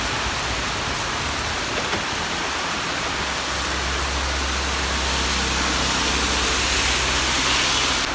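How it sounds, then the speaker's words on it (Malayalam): Heavy rain pours down outdoors during a visit to Ammachi Kottaram, a dense, loud, continuous hiss of drops on surfaces with a low rumbling undertone, no voices heard. "നല്ല ഇടിച്ചു വെച്ച മഴയാണ്"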